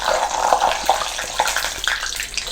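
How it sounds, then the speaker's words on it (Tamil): Grated coconut crackling and popping as it fries in hot oil for a homemade mixture snack, with moisture causing sharp spits; a dense, continuous sizzle with scattered louder pops, close and fairly loud. "கொஞ்சம் தண்ணி இருந்திருக்கு போல இருக்குது, அதான் வெடிக்கிறது"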